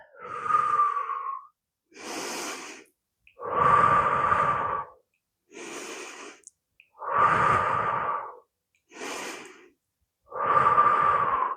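Breathing during a Pilates exercise, slow alternating inhales and exhales, seven distinct breaths with short pauses between them, close and fairly loud, no talking.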